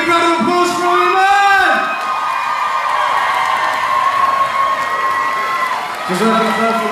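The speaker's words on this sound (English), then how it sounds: "Can we give a big round of applause for our man?" Loud cheering, whoops and clapping from a dinner crowd at a charity event, with shouting voices rising and falling over continuous applause.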